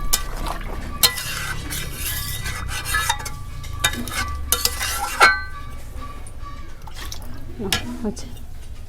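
Water poured into almost-cooked chicken kosha in a pot and stirred, with clanks of a utensil against the pot and bursts of sizzle, and a voice talking throughout.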